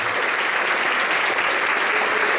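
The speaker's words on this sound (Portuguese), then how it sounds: "Vamos aplaudir esse Deus bem forte" A church congregation applauds loudly during a worship service, a dense, steady wash of clapping from many hands lasting throughout, close and continuous.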